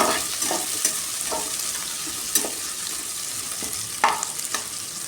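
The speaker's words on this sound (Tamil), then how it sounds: "நல்லா வதக்கி விட்டுக்கலாம்." Ridge gourd and curry leaves sauté in a pan for poriyal, a constant moderate sizzle with regular spoon scrapes and taps as the vegetables are stirred, and no speech.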